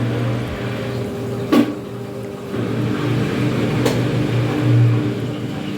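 A Hisense washing machine starts its spin cycle with a low motor hum that rises and steadies. Two brief clicks or knocks sound partway through.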